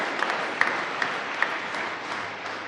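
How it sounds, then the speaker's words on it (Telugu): Audience at a jubilee prayer gathering clapping steadily and fairly loudly in thanks, a dense continuous patter of many hands with a few sharper individual claps standing out. "గట్టిగా చప్పట్లు కొట్టాలి."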